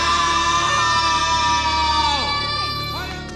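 Shouting and yelling voices ring out from a house in an Indian action film, loud and close, with several overlapping cries over a steady background for about three seconds.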